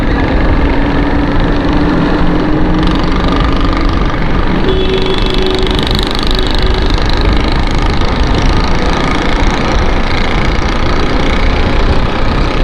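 Motorcycle ridden on a hot, windy Karachi road toward the expressway, a steady loud engine hum with heavy wind buffeting and passing traffic noise throughout, no clear talk.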